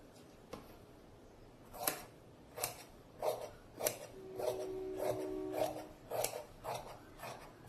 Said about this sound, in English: We'll cut it off whatever is extra.